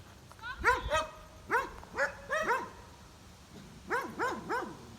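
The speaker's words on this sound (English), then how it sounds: "And you got neighbors with a bunch of dogs over here." Several dogs bark in bursts at a middle distance, yapping in quick clusters of two or three with short pauses between, over a low background hum.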